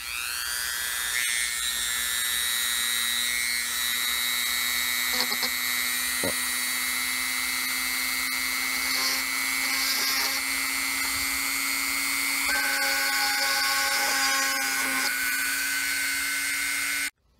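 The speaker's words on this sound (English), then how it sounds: "It's the task of trying to drill through all the holes in this board so the components can be mounted." A Dremel rotary tool drills holes through a toner-transfer printed circuit board, a steady high whine running throughout with brief pitch shifts as the bit bites, close and loud with no talk.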